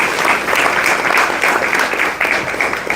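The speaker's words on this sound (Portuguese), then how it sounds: "Dê uma salva de palmas ao Senhor." A church congregation applauds, a dense, steady wash of clapping from many hands that fills the whole stretch without pause.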